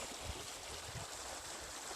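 A creek flows steadily at close range, giving a quiet, continuous trickling wash with soft low gurgles, no voices over it.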